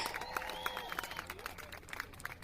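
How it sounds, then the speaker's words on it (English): Faint applause sound effect, a soft continuous patter of clapping mixed under quiet music and a sustained tone, low in level throughout. "Is it too early to do the applause?"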